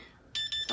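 A timer alarm going off during a vinyl layering session, three or four quick bright electronic beeps in a steady rhythm, close and fairly loud.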